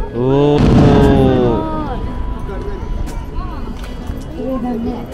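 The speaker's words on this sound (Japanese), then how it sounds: "熱田祭り花火が上がっております。" Fireworks burst over the crowded Atsuta festival in Japan, with a loud boom early on and further pops after it, heard under excited chatter and voices from nearby onlookers.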